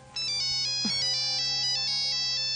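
A bright electronic phone ringtone plays in a repeating melodic pattern, loud and close, continuing steadily after a brief quiet start.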